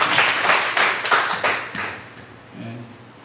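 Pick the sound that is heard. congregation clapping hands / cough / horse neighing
congregation clapping hands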